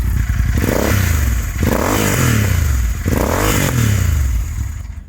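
An Interceptor 650 motorcycle fitted with an S&S camshaft revs hard through its exhaust in two long surging pulls, rising and falling in pitch, loud and close, with a crackling edge.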